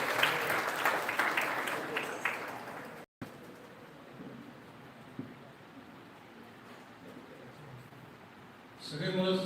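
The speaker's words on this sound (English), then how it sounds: "A big round of applause." An audience at an international conference's memorandum signing ceremony applauds with dense, steady clapping that fades into a quieter room hum after a brief cut, with clapping returning at the end.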